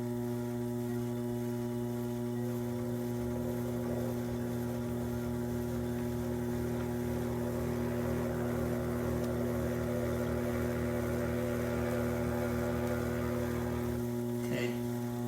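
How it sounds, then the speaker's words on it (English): A potter's wheel spins fast while a bowl is trimmed, giving a steady droning motor hum with a faint scraping texture above it, close and continuous, ending with a small clatter. "I spin my wheel fast."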